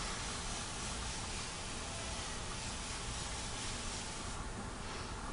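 An airbrush sprays paint onto a skull model, giving a steady, close, even hiss of compressed air that runs unbroken throughout with no talking.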